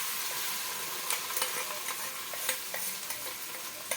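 Onion sizzles steadily while frying in a pan on a stove, with scattered scraping and clinking strokes as it is stirred. The cooking is close and continuous, and no one speaks.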